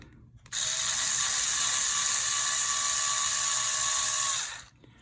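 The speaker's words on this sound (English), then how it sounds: "they recommend that you drive a M3 screw through this first to kind of thread the holes" An M3 screw is driven through the rod ends of RC crawler shocks, giving a steady, loud, high-pitched mechanical whir with a continuous ratcheting edge that runs unbroken for about four seconds, then stops.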